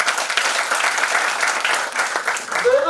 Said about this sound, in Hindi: वेरी गुड, इनके लिए भी ताली बजाओ।